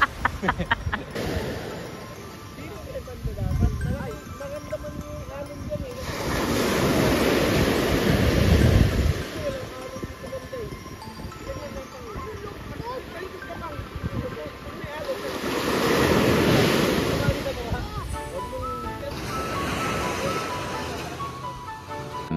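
Ocean waves roll onto a beach at Bauang, La Union, swelling into two broad surges of surf amid steady wind noise on the microphone, with faint voices talking in the background.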